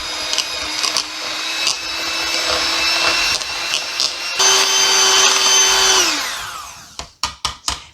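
A close electric hand mixer whirs loudly through sweet potato pie filling in two runs, with short pauses and bumps between them, then spins down and ends with a few sharp taps against the bowl. No one speaks.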